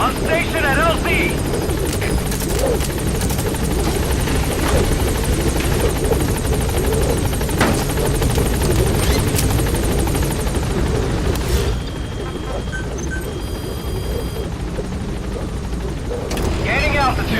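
In the game Metal Gear Solid V, the Pequod helicopter arrives at the landing zone with a loud, steady rotor thrum and engine roar that stays close throughout, easing slightly toward the end.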